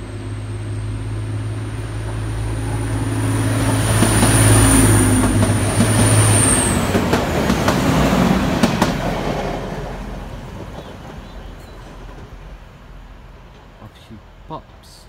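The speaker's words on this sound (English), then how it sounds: "Departing now is what I believe to be the Transpennine Express service to Glasgow Central." A TransPennine Express passenger train, unit 185118, pulls away from Lancaster station, a low rumble and rising wheel hum building then fading, with a high whine early on and a few clicks at the end.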